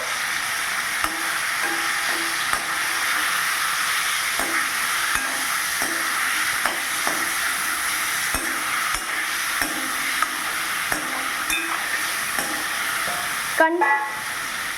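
A spoon stirs cut mangoes cooking for mango chutney in a pan, continuous soft scraping over a steady sizzle, with a short louder clatter near the end, close and without voices.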